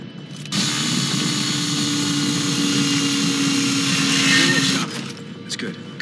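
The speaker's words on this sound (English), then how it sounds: "Drill here." Steady mechanical drill whine from the Call of Duty: Ghosts game, holding a constant tone for about four seconds before stopping abruptly, loud and close, with faint background noise after.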